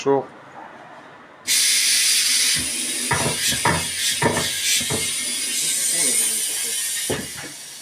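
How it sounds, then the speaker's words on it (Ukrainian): Tyre being fitted onto a wheel rim at a tyre shop, a burst of compressed-air hiss followed by ratcheting mechanical clicks and knocks from the changing machine, close and loud, with someone talking in between. "Зараз другу шинку збираємо сюди на диск."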